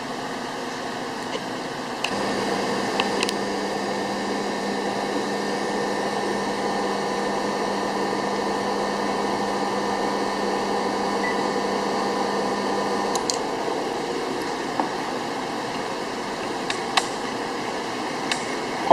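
Air sampler pump running steadily with a low, even mechanical hum and drone for most of the stretch, then cutting off, leaving a quieter background with a few small clicks.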